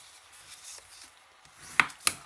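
Two sharp creasing snaps as a cardboard lid of a small box is folded along its fold lines, a soft rubbing scrape before them, close and otherwise quiet.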